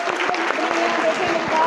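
Audience applause in a lecture hall during a student cyber crime awareness talk, a dense steady patter of clapping holding at an even level throughout.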